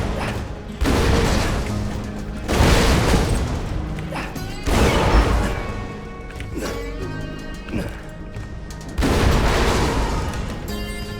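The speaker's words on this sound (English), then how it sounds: "Exploding donuts." Repeated explosions from exploding donuts in Borderlands 2 burst several times in a row, loud booms and crashes layered over dense game music and effects.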